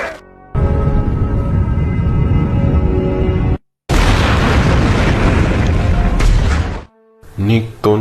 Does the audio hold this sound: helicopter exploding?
yes